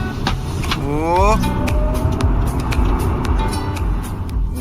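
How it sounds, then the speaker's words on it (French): A Tesla electric car accelerating on asphalt, its tire roar building under a rising electric whine, close and loud, while a voice briefly exclaims. "Tout ce que l'on entendait, c'était le bruit des roues sur l'asphalte."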